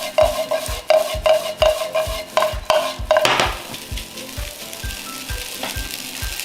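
Garlic for fried rice with Jinhua ham is stir-fried slowly in a wok, with rhythmic spatula knocks and scrapes over a soft sizzle that quiets toward the end.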